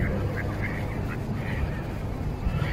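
Wild ducks quack repeatedly at a lakeside or riverbank near Sverdlovsky settlement in the Shchyolkovo district, the calls moderately close amid steady outdoor background noise.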